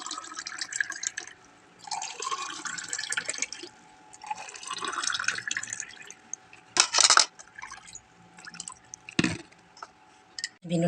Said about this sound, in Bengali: এই ঠান্ডা জলটা দিয়ে দিচ্ছি।